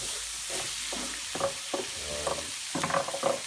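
Vegetables sweated with flour in a pan for a chicken and chorizo dish, sizzling softly throughout while a spoon scrapes and stirs in short irregular strokes close by.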